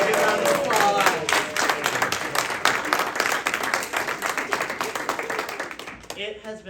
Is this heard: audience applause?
yes